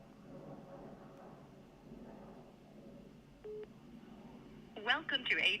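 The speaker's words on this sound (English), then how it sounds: "I'm going to try calling real quick, see what happens." A telephone dials into a conference call line, with a quick cluster of loud keypad tones near the end after a stretch of quiet background murmur.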